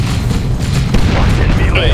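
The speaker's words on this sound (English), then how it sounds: "Enemy grenade!" A grenade detonates in a Warhammer 40,000 Dawn of War II battle, a dense boom set within continuous battlefield noise, with voices and other combat sounds layered over it.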